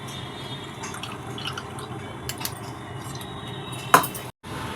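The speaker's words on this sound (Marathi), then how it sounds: "दोन ते तीन वेळा राजगिरा आणि वरई स्वच्छ धुवून घ्यायची आहे चाळणीमध्ये राजगिरा काढून घेऊया" Rajgira and varai grain are rinsed in a sieve, bringing a steady wet trickle and drip of water with faint metal clinks and one sharp, close clink near the end.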